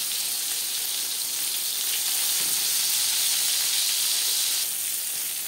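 Eggplant slices frying in refined oil in a covered pan over a medium gas flame, giving a steady, even sizzle and hiss that holds at constant level throughout with no voices.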